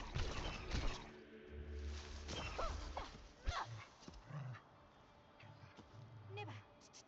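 A dog companion in the video game Neva whimpers in high, wavering whines, then gives a few short yips and barks. The sounds are mixed with a music-like game background, and a voice talks briefly over it.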